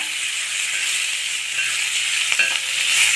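Broad beans hit hot oil already crackling with mustard seeds, giving a steady, close sizzle and hiss with faint stirring scrapes, heard alone without voices.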